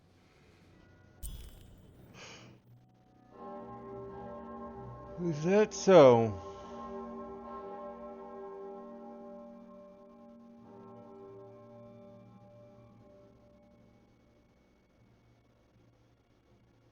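A bell rings in the video game Lost in Random with a clanging strike whose metallic overtones ring out and slowly decay over several seconds. Voices speak briefly around it.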